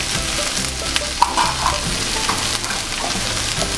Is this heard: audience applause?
no